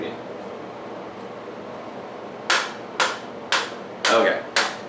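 Five sharp taps on a Chauvet DJ GigBAR 2 set to sound-active mode, evenly spaced at a slow pace and standing out clearly over a steady background hiss.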